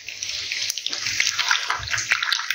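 Water is poured into an inverter battery, a steady close splashing and trickling pour that runs loud and unbroken.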